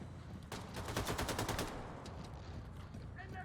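Rapid automatic gunfire in the shooter Wolfenstein II: The New Colossus, a dense burst of cracking shots lasting about a second, followed by softer scattered game noise.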